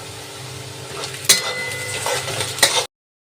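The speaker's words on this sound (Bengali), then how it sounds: "পেঁয়াজটা আমাদের ভাজা হচ্ছে, এই সময় আমি এতে কিছু খাসির চর্বি দিয়ে দেবো।" Onion fries in oil with added mutton fat in a pot, giving a close, steady sizzle broken by two sharp metallic clinks of a stirring spoon against the pan before it cuts off.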